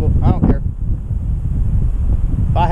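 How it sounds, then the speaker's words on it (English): Strong outdoor wind buffets the microphone at a pressure-washing and softwash job, a steady low roar that runs through the whole stretch while someone talks briefly at the start and again at the end. "It's windy, sorry about the wind."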